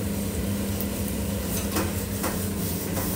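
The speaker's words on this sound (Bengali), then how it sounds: "এখানে শামি কাবাব ভাজা হচ্ছে" Shami kebabs fry in a pan during Eid cooking, giving a steady, even sizzle with a few faint clinks on top and no talking.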